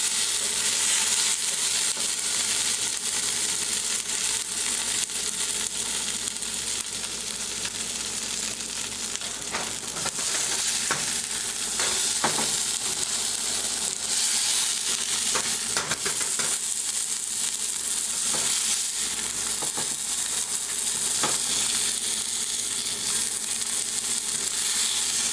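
Browned beef stew meat sizzles and fries loudly in a pot, with a steady hiss and occasional crackles and stirring scrapes continuing throughout, no voices.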